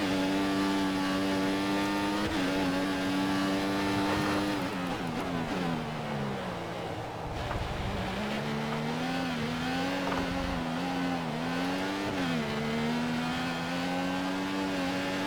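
Engine of a Formula 1 race car in the F1 2014 video game, qualifying at the Shanghai circuit in China, revving continuously with rising and falling pitch through gear shifts, loud and steady throughout with no talk.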